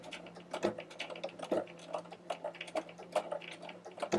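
A domestic sewing machine with a button sew-on presser foot stitches a quarter-inch button in quick, irregular clicking bursts. The needle taps sit over a faint steady motor hum, close and clear.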